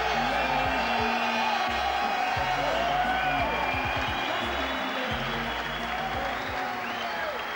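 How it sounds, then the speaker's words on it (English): A packed boxing-hall crowd greets a fighter's ring entrance with sustained cheering, whoops and clapping, a dense roar filling the whole span while a commentator's voice runs faintly beneath. "A tremendous reception from a packed crowd"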